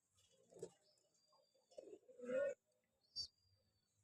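Soft, low coos of Khoiri Jalali pigeons come in short bursts close by, mixed with light rustling and a sharp click or two in a quiet space.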